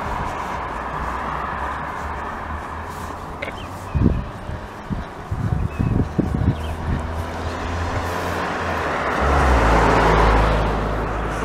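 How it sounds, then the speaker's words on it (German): Cars pass on a road during a walk between Bad Salzdetfurth and Wesseln, a steady outdoor traffic rumble with a few closer passing swells in the middle and a louder approaching vehicle near the end. "Fürchterlich, diese Autos."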